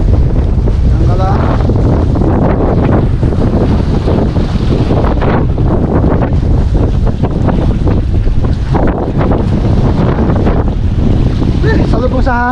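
Strong wind buffeting the microphone while out on a small fishing boat at sea, a loud continuous roar with water and engine rumble underneath and a voice talking through it.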